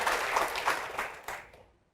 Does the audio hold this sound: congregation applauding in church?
yes